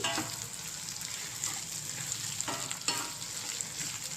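Bitter gourd (kakarakaya) fries in a pan with a continuous close sizzle and a few soft scraping stirs.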